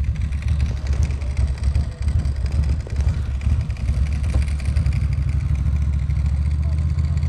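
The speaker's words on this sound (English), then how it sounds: "All I hear is like your clutch, DJ" Ducati motorcycle engine running steadily close by, with clutch rattle mixed into a continuous low, rumbling drone throughout.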